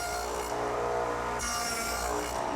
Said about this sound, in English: Now I've swung the radial arm to 10 degrees and installed a stop so that I'll remove just the right amount of material.